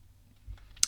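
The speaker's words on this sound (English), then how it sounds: "And I'll click Create." A single faint mouse click to select the Create button in Microsoft Teams, a crisp tick at the very end of an otherwise quiet moment.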